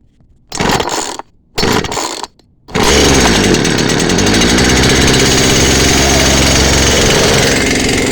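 A recently repaired chainsaw with choke out and ignition on takes three loud pull-start rips, each a short burst, then catches and settles into a steady, loud, close idle that runs on continuously.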